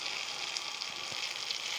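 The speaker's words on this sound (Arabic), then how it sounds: "وهنا الرز طبعا بيتحمر زي ما انتم شايفين" Rice browning in hot oil in a pot for Sudanese-style kawar, giving a steady close sizzle and fry hiss throughout with faint stirring scrapes, no voices.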